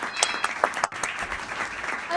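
A studio audience welcomes a Sindh Police officer onto a talk show with a burst of clapping, sharp claps at first and then denser sustained applause, loud and close.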